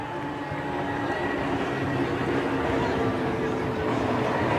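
A fighter aircraft performs a barrel roll at an Indian air show in Chennai: a steady, broad jet roar holds at constant loudness throughout, swelling only slightly toward the end.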